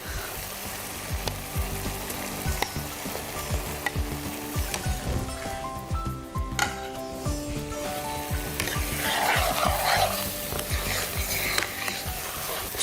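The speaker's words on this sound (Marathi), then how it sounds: "आता आपण ह्याच्यामध्ये पनीर ॲड करूयात जे आपण मॅरिनेट करून शॅलो फ्राय केला आहे ते" Marinated, shallow-fried paneer being stirred into a sizzling masala gravy for Lahori paneer korma, with steady frying hiss and scraping spoon strokes against the pan, close and continuous.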